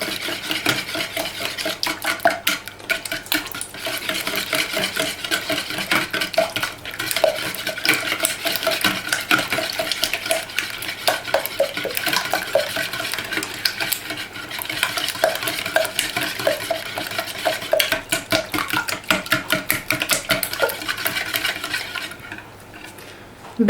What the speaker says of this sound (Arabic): دابا غادي تبدا كتخلط